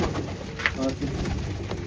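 Pigeons in a home loft coo softly and close, a low rolling burble with one brief sharper chirp partway through.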